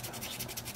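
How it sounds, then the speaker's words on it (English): Rapid rough scratching as a key blank is sanded smooth for impressioning a Master Lock No 5 padlock, a brief steady burst of abrasive rubbing close up. "I'm sanding it down to make it smooth"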